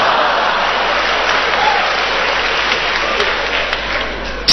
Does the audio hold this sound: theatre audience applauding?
yes